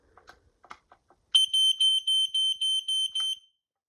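A cool smoke alarm being tested, sounding a loud, close run of about eight shrill, steady electronic beeps in an even rhythm, preceded by a few soft clicks and handling noises.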